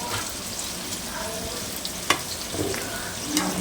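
A pot of fish curry bubbles and sizzles steadily and continuously, with a few small pops rising above the constant hiss.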